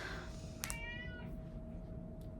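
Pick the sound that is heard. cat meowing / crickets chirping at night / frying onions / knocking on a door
cat meowing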